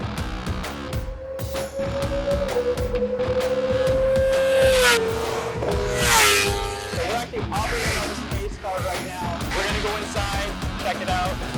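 A pace car drives laps of the Mandalika GP circuit in Lombok, its engine tone rising and falling in pitch with loud, close interior rumble and people talking excitedly over it.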